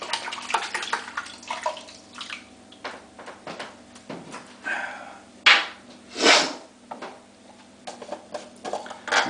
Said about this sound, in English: I'm just going to face lather.